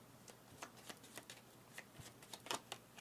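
Cards from the board game Leaving Earth being shuffled, a run of short crisp riffling flicks and snaps close by, fairly quiet against low room hum, with no talk.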